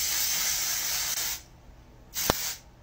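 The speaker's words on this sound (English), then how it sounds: "a performance enhancing texture and finishing spray" Color Wow Style on Steroids texture spray hisses onto hair in a long, steady burst, then a short second spritz after a brief pause. It sounds close and soft.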